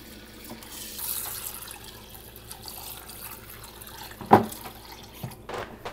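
Tap water runs softly into a bowl while rice is rinsed to make a homemade lactic acid bacteria soil booster for the garden. It is a quiet, steady trickle with one brief louder splash.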